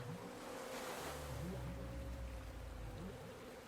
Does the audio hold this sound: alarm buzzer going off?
no